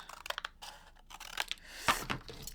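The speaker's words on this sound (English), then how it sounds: "This is a little bit too big actually, so I'll just go in with scissors" Scissor blades snip through stiff cardstock in a few short, crisp cuts, close up, with light rustling and handling noises between them.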